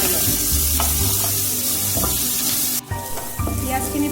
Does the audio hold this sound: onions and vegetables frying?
yes